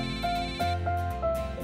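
A phone ringtone plays as a repeating electronic melody of short beeping notes, loud and close, with no voices over it.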